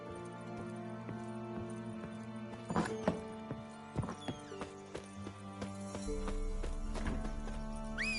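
Roach, Geralt's horse in The Witcher 3, runs with steady clip-clopping hooves, close and clear, with a brief whinny, amid game music and ambient tones.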